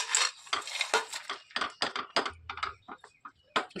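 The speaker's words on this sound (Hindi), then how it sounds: "जो मूंगफली भून के रोस्ट करके रखी है उसको इसी में डालेंगे" Roasted peanuts tumble into warm jaggery in a pot and get stirred, giving a run of close scraping clinks and rattles with an uneven rhythm. No one speaks.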